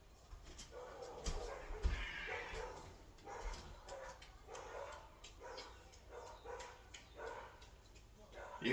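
A neighbor's dog next door barks repeatedly in short, moderately distant yaps and whimpers, heard behind a person talking close by.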